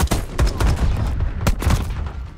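Gunfire and shotgun blasts from a Call of Duty shooter game, a rapid volley of loud, sharp shots in uneven bursts, with two heavier booming blasts near the end.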